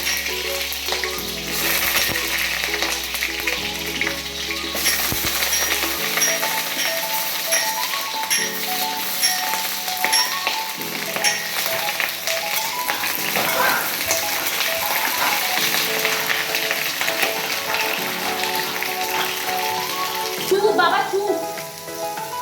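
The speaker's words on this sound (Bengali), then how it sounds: "আমি প্রথমে পটলগুলো ভেজে তুলে নিচ্ছি।" Pieces of pointed gourd (potol) fry in hot oil with a steady, dense sizzle and crackle that lasts throughout, with occasional stirring scrapes near the end.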